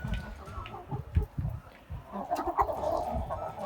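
Dark cherry roosters and other fowl in a sunny farmyard, clucking and calling in short bursts nearby, with a low background murmur and scattered rustling.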